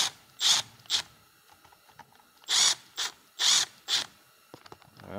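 Short bursts of a small power driver snugging screws into a Husqvarna 455/460 Rancher chainsaw carburetor, several whirring runs of under half a second each, close up, separated by quiet gaps.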